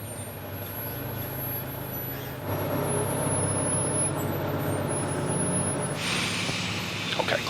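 Aircraft pushback at an airport stand: a tug's steady diesel engine drone and low vehicle rumble, growing louder partway through, with a hiss and faint clanks near the end.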